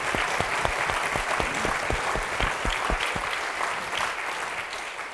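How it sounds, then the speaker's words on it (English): Applause from a conference audience at an opening ceremony, a burst of sharp, close claps that thins out and fades toward the end, with no speech over it. "So let's give them a clap too."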